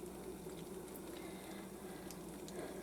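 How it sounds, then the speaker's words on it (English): About four cups of thinly sliced onion cooking in a pot over medium heat, giving a steady, continuous sizzle and bubbling hiss with no pauses. "we're over medium heat. What we're going to do is we're going to add about 4 cups of thinly sliced onion."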